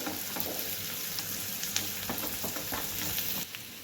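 Crushed garlic frying in hot oil for masala garlic shev, a steady close sizzle with bubbling crackles and small pops throughout, no voices.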